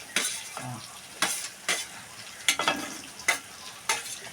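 Ginger frying in a pan with carrot, green chilli and curry leaves for wheat rava upma. A steady sizzle runs beneath several sharp spatula scrapes and stirs, close and fairly loud, with no talking.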